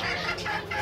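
Chickens cluck at an animal breeder's farm that keeps many breeds of fowl. Several hens sound close by in short, overlapping bursts with no pauses, alone and without voices.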